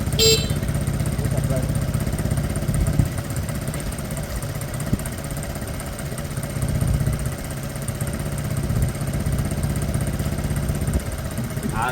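Piaggio Fly 125 scooter engine running steadily after an engine swap, a close, continuous idle-like drone with slight rises in revs, a few sharper knocks near the start.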